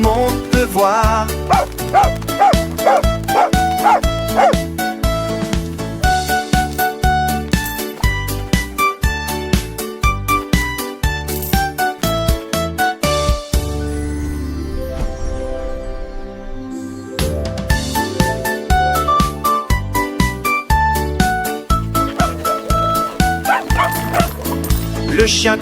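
A dog barks and yips repeatedly in a bright, rhythmic pattern set against a busy children's song backing, with a brief quieter break midway before the barking and music resume at full loudness.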